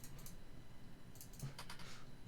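Computer keyboard typing during a gaming stream, a light run of clicky keystrokes at moderate distance with no talk over it.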